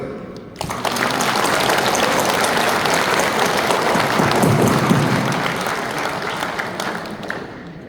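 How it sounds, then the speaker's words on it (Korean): A large crowd at a national Korean Presbyterian men's church convention claps in sustained, dense applause that starts abruptly and continues strongly for several seconds before tapering slightly. "우리 하나님께 영광의 박수를"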